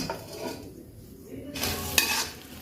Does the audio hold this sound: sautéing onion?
yes